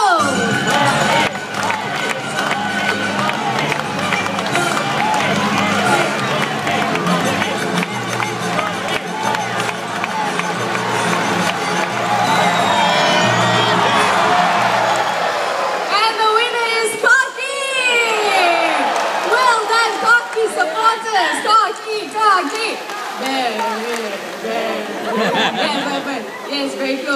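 A crowd at a live bird show race cheers and shouts for the racing birds, a dense, loud roar of voices with children's high shrieks that swells and surges, with an announcer's voice over it.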